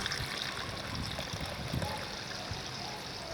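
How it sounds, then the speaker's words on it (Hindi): Water is poured into creamy ground almond paste while making traditional thandai, a steady trickling and splashing stream running without a break throughout. "अब इसमें पानी डालते हैं।"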